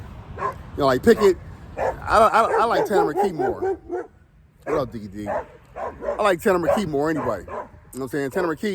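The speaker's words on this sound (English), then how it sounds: "sorry about the barking, I can't control that." A dog barks and yips intermittently in the background while someone talks steadily over it.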